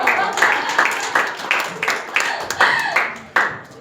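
Audience clapping at a community resilience talk, a handful of distinct, fairly close claps landing in an uneven rhythm for a few seconds.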